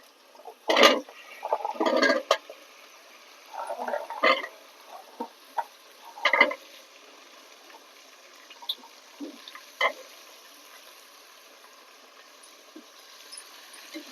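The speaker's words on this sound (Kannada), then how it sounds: "ಇವಾಗ ತರಕಾರಿ ಎಲ್ಲ ಹಾಕೊಳ್ಳೋಣ" Vegetables being tipped into a pan of frying tomato on a wood-fired stove for vegetable rice bath, making a few loud clattering, splashy bursts early on, then softer, scattered scraping and stirring.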